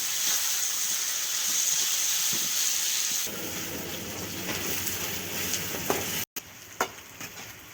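Onions and garlic frying in two cups of oil in a kadai on a mud stove give a steady, loud sizzle. It settles slightly quieter midway, then brief clicks and knocks follow near the end.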